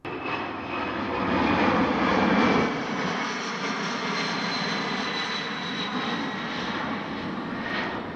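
An aircraft takes off from a runway at night, a steady broad roar of engines that swells early and then holds loud and constant.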